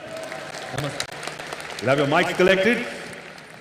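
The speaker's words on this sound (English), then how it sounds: "Round of applause for him, ladies and gentlemen." An audience applauds at the 53rd IFFI closing ceremony. Steady clapping runs underneath as someone talks over it.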